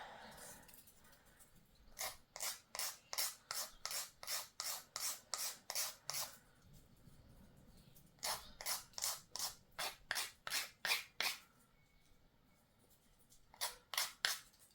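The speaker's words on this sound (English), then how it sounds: "with me sanding this now, it's gonna still have like a harsh line" Rhythmic rasping strokes of sanding along the edges of a resin miniature snail charm, arriving in three fast bursts of back-and-forth rubbing separated by short pauses, close and fairly quiet with no talking.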